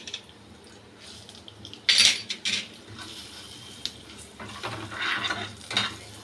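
Metal utensil scraping and clinking against a wok in several short bursts while stirring spices and dried chillies, over a quiet background.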